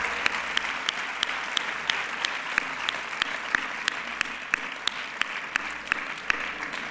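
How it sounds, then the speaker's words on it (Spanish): Applause from the audience at a San Sebastián de los Reyes sports gala in 2013, honouring the musicians and artists: steady, moderately distant clapping from a mid-sized crowd, with sharper individual claps standing out. "Un fuerte aplauso para toda la música, para todos los artistas."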